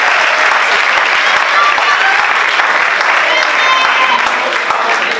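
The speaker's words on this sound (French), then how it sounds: "D'abord, applaudissez pour toutes les mamans ici dans la salle." A hall audience at a live comedy show applauds for the mothers in the room, a loud, dense and steady wash of clapping that carries on without a break.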